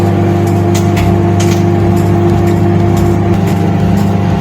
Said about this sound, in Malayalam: നമുക്ക് ഇതിൽ കപ്പലണ്ടി തേന്ന് പൊട്ടുന്ന ഒച്ച കേൾക്കാം.